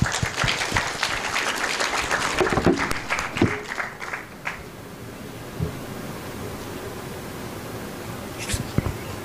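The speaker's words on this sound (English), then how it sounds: "Let us all give him a round of applause." Applause welcomes the administrator of PAGASA at a national climate outlook forum; a hall full of people claps loudly for about four seconds, then the clapping fades to scattered claps over quiet room noise.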